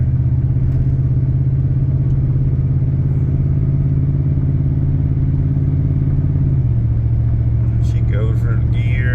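A 1994 GMC truck drives steadily with a loud, close engine rumble and transmission drone that drops in pitch as it shifts into a higher gear, with faint rattles near the end.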